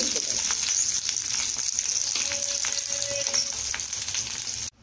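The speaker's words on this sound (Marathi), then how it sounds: "हिरव्या मिरच्या मंद आचेवरती परतून घ्यायच्या चांगलं खमंग भाजून" Green chillies frying in oil over low heat for a rustic cluster bean thecha, a steady close sizzle with light stirring taps, continuous and fairly loud before cutting off abruptly, no talk.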